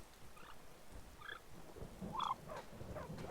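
Turkey gobbling sounds from a Skyrim video game mod: several short warbling gobbles in bursts, the loudest near the middle, over a steady background hum.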